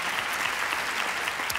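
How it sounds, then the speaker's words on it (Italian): A gathering of accountants gives a short, even burst of applause. Many hands clap together in a dense, continuous patter for under two seconds. "Con l'applauso dei commercialisti riuniti"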